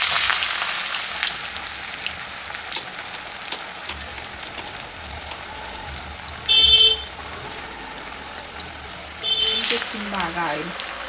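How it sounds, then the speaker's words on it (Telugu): Vadas frying in hot oil with curry leaves make a steady, rain-like crackle and hiss that runs throughout, with a few louder sputtering bursts; a voice is heard speaking over the frying. "బాగా ఆయిల్ అంటే కరివేపాకు ఉంటుంది కదా, అందుకు అలా సౌండ్ వస్తుంది"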